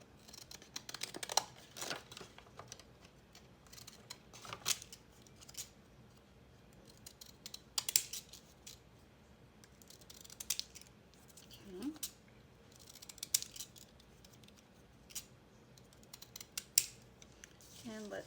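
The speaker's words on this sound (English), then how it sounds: "I'll cut them both out and see which one looks best." Scissors snip through a Masterboard collage sheet being cut out for oceanic journal cards: a quiet, close series of crisp cuts in irregular clusters, with faint paper crinkling between them.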